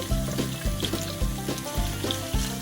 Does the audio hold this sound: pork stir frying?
yes